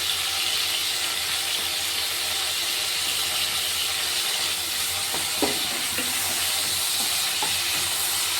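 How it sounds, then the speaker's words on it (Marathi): A chopped tomato fries in a pan with methi greens. A steady, even sizzling hiss fills the whole stretch, with a few faint clicks from stirring midway. "तो पण याच्यामध्ये फ्राय करून घेते."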